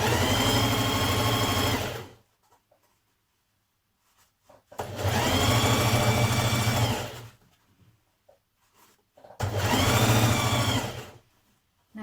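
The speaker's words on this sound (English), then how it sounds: "with right sides facing, you're going to stitch your front and back skirt pieces together" A sewing machine stitches front and back skirt pieces together in three sustained runs of steady, close whirring, each lasting about two seconds, separated by brief quiet pauses.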